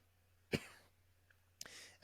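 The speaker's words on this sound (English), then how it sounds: "Sorry, coughing." Two sharp coughs, one early and one near the end, over a low steady hum, with quiet gaps between them.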